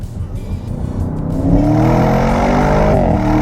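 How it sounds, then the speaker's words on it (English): A 2022 Audi S8 luxury sedan in dynamic mode with the exhaust set to powerful launches hard, its engine note climbing steadily in pitch and swelling to a loud, sustained roar up close. "we'll chuck it up into dynamic mode, exhaust on powerful, and we'll pin it"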